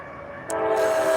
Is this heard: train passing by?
yes